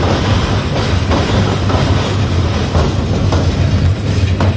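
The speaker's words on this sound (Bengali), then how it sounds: "ব্রিজটা আমরা পার হয়ে যাওয়ার পরে আবারও ট্রেন হয়তো জোরে চলতে শুরু করবে" The Kishorganj Express passenger train rolls near a bridge with a steady loud rumble, rhythmic wheel clatter and occasional squeals, heard from on board with no talking.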